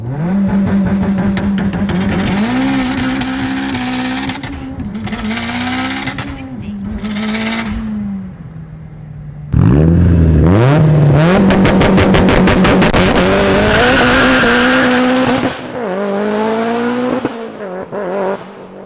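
A loud, tuned 700+ hp turbocharged Mitsubishi Evo IX accelerates hard through several gears, engine roaring and rising in pitch, with brief dips at each shift and turbo whooshes.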